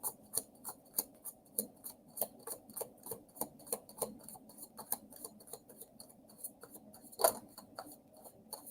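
Soft, rhythmic riffling and tapping of tarot cards being shuffled, about two snaps per second, close and quiet, with one sharper slap near the end.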